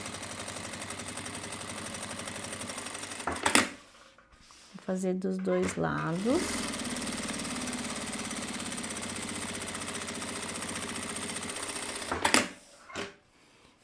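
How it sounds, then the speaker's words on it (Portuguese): A sewing machine stitches a seam close to a zipper, giving a short mechanical whirring run in the middle between clunks and handling noises. Someone speaks briefly. "passar aquela costura mais próxima ao zíper"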